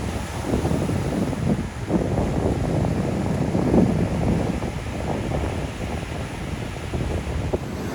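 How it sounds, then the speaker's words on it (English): Big foamy ocean waves roll in steadily along the wild Siargao Island coast in the Philippines, a continuous loud wash of surf mixed with gusting wind across the microphone, with no voices. "More big foamy waves rolling in."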